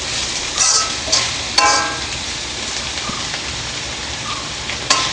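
Vegetables for fried rice fry over a high flame, giving a steady rain-like crackling sizzle close by, with a few louder spatters and stirring knocks spaced through it.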